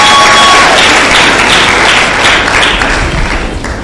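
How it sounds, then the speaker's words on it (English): Loud, sustained applause from an audience at a physiotherapy profession induction ceremony, dense clapping filling the room and easing slightly toward the end. "I think we should give you another round of applause to the university."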